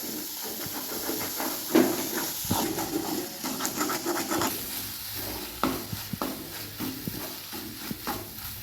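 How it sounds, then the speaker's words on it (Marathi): Scrambled egg bhurji frying in a pan and stirred continuously, giving a steady soft sizzle and hiss with scattered scraping taps from the spoon, close and moderate in level, with no talk. "असंच हलवत राहायचं, जोपर्यंत आपली भुर्जी मोकळे मोकळे होत नाही तोपर्यंत हलवत राहायचं आपल्याला"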